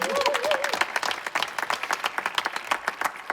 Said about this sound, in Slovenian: Aplavz za Blaža!